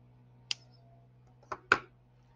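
Wire cutters snipping the excess end off a short jewelry head pin while making a colorful starfish necklace: a light click, then two sharper snips about a second later, close and crisp over a faint steady hum.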